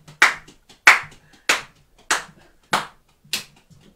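Six slow, distinct hand claps at an even pace, close and crisp, each standing alone with quiet gaps between, sounding like a small sparse audience rather than a crowd.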